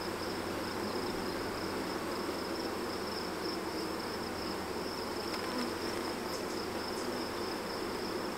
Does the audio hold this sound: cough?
no